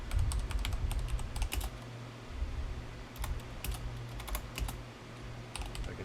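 Fingers type on a computer keyboard in quick bursts of crisp clicking keystrokes. A pause comes in the middle and a steady low hum runs underneath.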